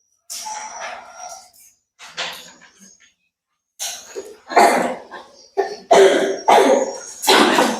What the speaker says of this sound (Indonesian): batuk-batuk